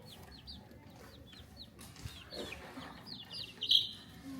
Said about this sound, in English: So we have the names of all of the chickens.